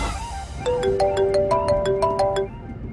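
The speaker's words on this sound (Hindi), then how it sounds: "रजत भाई को फोन करना पड़ेगा।" A phone ringtone plays a bright, repeating electronic melody of short tonal notes, fairly close and clear over a faint background hiss, with no voices.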